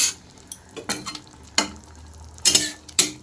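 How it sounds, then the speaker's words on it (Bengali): Eggplant pieces are stirred into spice masala frying in a pan for a Bengali lunch. Soft sizzling runs beneath several distinct scraping stir strokes and spatula knocks, close and fairly loud, with no speech. "এইবার আমি এখানে বেগুনগুলোকে দিয়ে দেব বেগুনগুলোকে ভালো করে মশলার সাথে"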